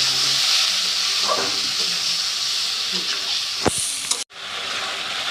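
Egg curry spice masala frying in oil with a splash of water, a steady close sizzle with faint stirring clicks, cut by a brief sharp clatter and a momentary drop out near the end.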